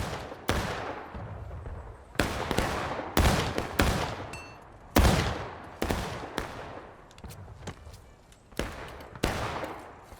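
Rifle volleys crack out one after another in a Civil War battle at Harper's Ferry in War of Rights, each loud report echoing with a long rolling tail as shots overlap in an uneven rhythm.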